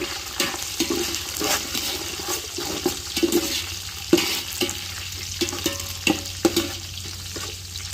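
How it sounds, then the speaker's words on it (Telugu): Pulao spices and bay leaves frying in a pan, a steady sizzle broken by repeated sharp clinks and scrapes of stirring, close and fairly loud. "బిర్యానీ ఆకులు కూడా వేసేసుకొని మొత్తం బాగా ఫ్రై చేసుకోవాలి."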